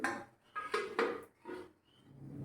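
A lid set onto a cooking pot of boiling water on a full gas flame while making rasmalai, heard as a few quick, soft metallic clinks and clatters close by.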